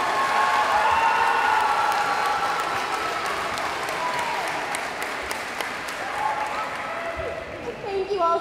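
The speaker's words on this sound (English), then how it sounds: "Let's give them one more round of applause." A school audience at the 2022 Pi Phi talent show gives sustained applause for the teachers' dance, a loud wash of clapping that slowly thins out, with voices and cheers mixed in.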